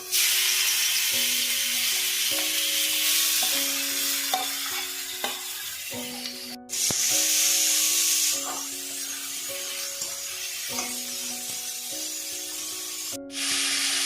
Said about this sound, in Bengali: প্রথমে দেব শুকনো লঙ্কা, এবার দেব কালো সর্ষে, দেব গ্রেট করে রাখা পেঁপেটা